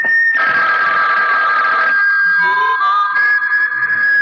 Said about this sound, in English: suddenly I heard... Your phone, Harry.